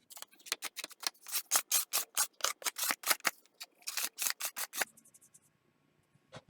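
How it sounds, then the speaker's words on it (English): A sheet of plain typing paper scraping over a gilded leaf surface in quick repeated strokes, crisp close rasps in a steady rhythm that stop, leaving a few faint touches. "I'm just going to use that to kind of scrape over the surface"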